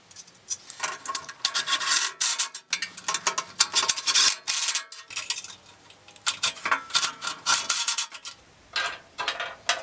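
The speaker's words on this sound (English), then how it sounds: "Reinstall the 4 bolts." Metal scraping, rubbing and clinking of hand tools while bolts are refitted on a 1985 table saw during restoration, busy close-up bursts with brief pauses, no voices.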